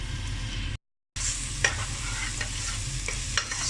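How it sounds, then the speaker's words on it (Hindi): Steady frying sizzle of onions in a pan with occasional stirring scrapes, close and moderately quiet, with a brief dropout near the start. "अब हम प्याज को ज़रा सा थोड़ा सा इसकी कलर चेंज होने तक पकाते हैं"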